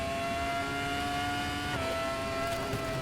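Formula 1 car engine from a racing video game, a sustained high-pitched whine at full throttle through a corner with a brief dip in pitch midway, loud and steady with no talking.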